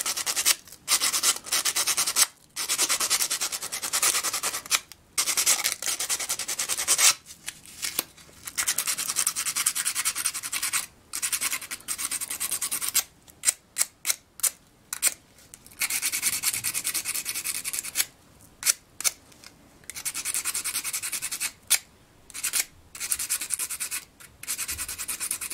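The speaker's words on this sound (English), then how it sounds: "I'm going to use this 180 sandpaper, 180 grit sandpaper." Sandpaper of 180 grit is rubbed over a part of a Homelite Trim N' Edge string trimmer in close, raspy bursts of sanding strokes. Short pauses break the strokes irregularly throughout.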